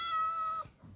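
A cat in the Minecraft video game gives a single clear, high meow that falls off quickly, then silence.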